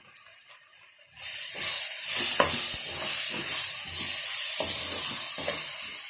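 Spices with garam masala and turmeric hit hot oil and are stirred while frying for pasta, starting after a brief quiet moment with a loud sudden sizzle, then a continuous hiss broken by repeated scraping stirring strokes.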